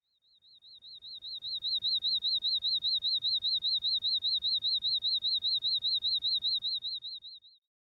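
A steady high-pitched warbling tone pulses rapidly for several seconds, fading in at the start and cutting off at the end, alone without other sounds.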